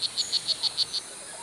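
Tiny male blue jeans dart frog in Costa Rican jungle calling to attract a mate, seven quick evenly spaced high chirps in one short, fairly close burst before it stops.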